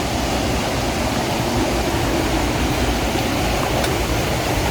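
A river stream flows steadily beside a trekking path on the way to the Curug Cikawah waterfall, producing a loud, constant broadband rush of water with no breaks.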